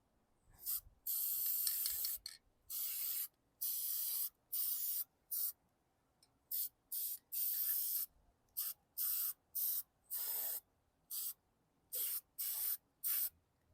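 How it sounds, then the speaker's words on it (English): Repeated short bursts of aerosol spray hiss, close and loud, separated by brief silences in an irregular rhythm, sprayed onto a 2016 Hyper Tough lawn mower. "We'll spray this now"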